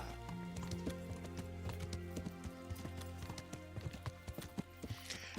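A horse's hooves clip-clop in the Kingdom Come: Deliverance video game, a steady run of crisp, distinct hoof strikes over a soft ambient bed, moderately quiet, with no talking.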